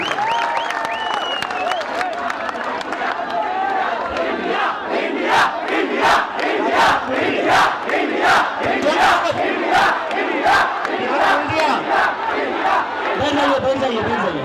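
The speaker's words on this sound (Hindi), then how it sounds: "यूपी वालों के लिए भी तालियां बजा दीजिए।" A large crowd of young people at a rally claps and shouts together, with a loud, sustained roar of voices and rhythmic bursts of clapping and cheering that continue throughout.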